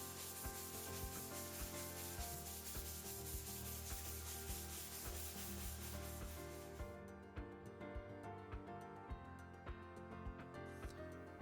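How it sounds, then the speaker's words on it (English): Steady back-and-forth sanding of cured epoxy on a cedar strip canoe hull, a continuous close rubbing rasp that thins out near the end into lighter, intermittent strokes. "The sanding of the epoxy also results in a better bond of the lacquer."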